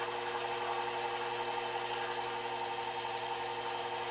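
Steady mechanical whir and hum of a Sherline lathe spindle turning at around 1100 RPM, a constant even drone with no breaks and no talking.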